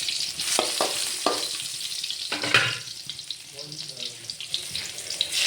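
Garlic and a little onion sizzle in hot oil in a pan, a steady broadband hiss broken by a few sharp stirring clatters, with sink water running faintly in the background.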